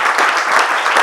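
Brief, loud burst of audience clapping in a studio talk show, a dense steady wash of applause.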